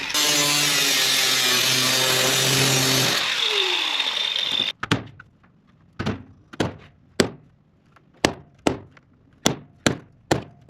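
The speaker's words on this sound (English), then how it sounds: "I'm bolting each hole as I drill." Power drill boring holes through metal brackets in a van interior build, a steady loud whining drill run that slows and stops, then a series of sharp, separate knocks and thunks from bolting.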